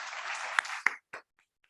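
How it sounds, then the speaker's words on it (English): A burst of audience applause, dense clapping that swells briefly and then cuts off, leaving a couple of stray claps trailing into quiet. "let's give a big round of applause for Shri Shiv Khera ji."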